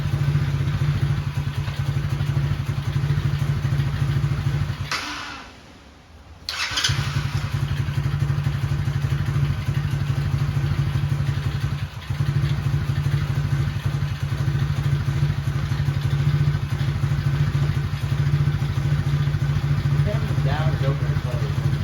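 Carbureted quad engine running while not yet fully warmed up, a close, steady low idle with a brief dip in the sound around the fifth second, then a return to the same even rumble.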